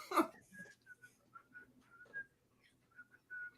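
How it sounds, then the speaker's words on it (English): A person whistles a tune softly during a tabletop Dungeons & Dragons game session, short faint melodic phrases separated by brief pauses in a quiet room. "I was like, where's that whistling coming from?"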